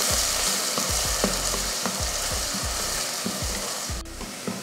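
Two large onions with cinnamon, cardamom and curry leaves fry until golden, a loud close sizzle broken by repeated rhythmic scraping strokes of a spatula, with no talking.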